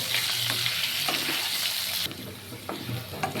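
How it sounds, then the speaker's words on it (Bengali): Potatoes fry in hot oil with a steady dense sizzle, salted and cooking toward reddish-brown, with faint stirring scrapes and a brief drop in intensity partway through, close and continuous with no talk. "এবার আলুটাকে আমি লাল লাল করে ভেজে নেব।"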